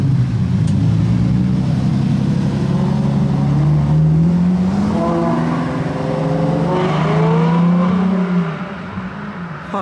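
Lamborghini V12 hypercars, a Murcielago among them, drive past in the streets of Monaco, one chasing another, their loud engines revving and rising and falling in pitch as they go by close.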